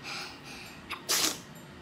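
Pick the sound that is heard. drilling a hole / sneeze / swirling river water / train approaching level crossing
sneeze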